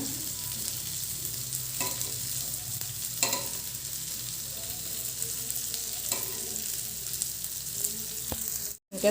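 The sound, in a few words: okra (ladies finger) frying and being stirred in a pan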